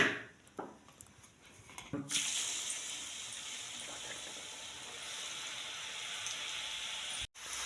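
Homemade murukku fry in hot oil with a steady, quiet bubbling sizzle that starts abruptly after a couple of seconds and carries on evenly, briefly cutting out near the end.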